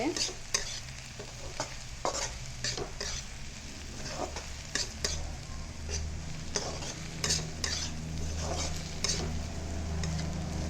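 A spatula stirs metekā flowers frying in a pan, giving repeated scraping clacks over a steady background sizzle, close and fairly quiet, with no talking.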